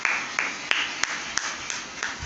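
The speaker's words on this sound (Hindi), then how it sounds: "ताली बजाओ भाई, ताली बजाओ।" Audience clapping at a comedic mock courtroom show, a sparse run of about eight separate claps spaced evenly, fairly faint against a quiet background.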